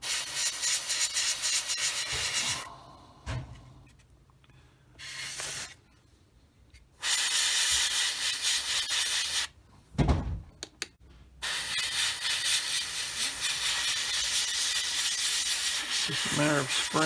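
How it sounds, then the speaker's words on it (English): Bursts of hissing spray paint on a Tamiya 1/48 F4F-4 model kit, long sustained blasts broken by short pauses and a few quieter gaps, close by. "Just a matter of spraying it and making sure you get good coverage so the light doesn't shine through."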